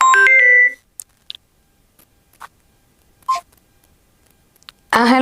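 A mobile phone plays a tonal ringtone in a short burst at the start and again at the end, with quiet clicks and faint sounds between the two bursts.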